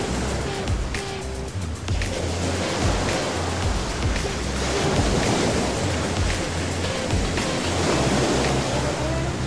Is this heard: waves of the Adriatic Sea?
yes